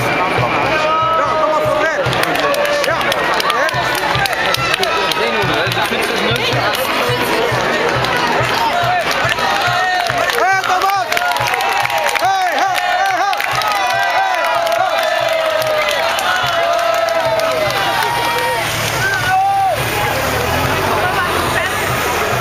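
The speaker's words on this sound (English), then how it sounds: "Crowd in Gent-Wevelgem this afternoon" Roadside crowd on the Kemmelberg climb during the Gent-Wevelgem cycling race cheering riders past, loud continuous roar with whoops and shouts, a commentator talking over the din throughout.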